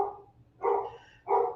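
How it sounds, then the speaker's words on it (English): A dog barks twice in a short indoor burst, the two loud woofs spaced about half a second apart over a quiet background with no talking. "Sorry, my dog is barking"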